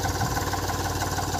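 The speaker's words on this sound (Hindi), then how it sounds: "देख सकते हो आप, इस प्रकार चल रहा है ट्रैक्टर।" An Eicher 485 tractor engine runs in a field while shaping water channels, a steady, close, rhythmic chugging throb with no pauses, heard alone.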